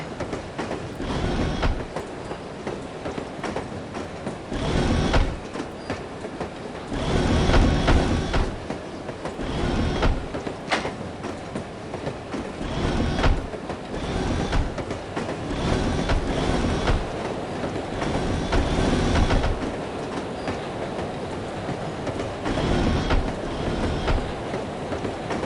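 A train rolls on rails in the video game No One Lives Forever, a loud steady rumble with rhythmic clickety-clack wheel beats and surging bursts, with no talk.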